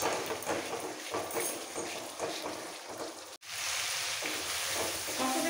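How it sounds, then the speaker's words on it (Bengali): Rohu fish curry masala with red chilli powder is stir-fried in a pan, a dense, steady sizzle with rhythmic scraping strokes that cuts out briefly, then resumes just as loud. "এবার একসাথে খুব ভালো করে কষাবো।"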